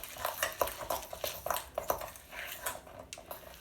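Hand stirring of a thick chocolate mixture in a bowl, a run of soft scraping clicks and taps from a utensil against the dish, close and fairly regular.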